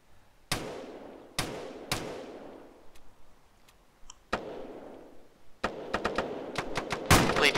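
Gunfire in the military shooter Arma during a ShackTac team operation: sharp single shots with decaying echoes, several spaced rifle cracks, then a rapid burst of closely spaced shots at the end.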